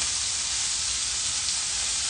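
Food sears in a hot pan with a loud, even, continuous sizzling hiss that holds without a break.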